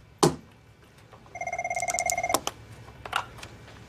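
An office desk telephone rings in two loud, trilling bursts, close by. A brief knock comes before the rings and a soft bump follows them.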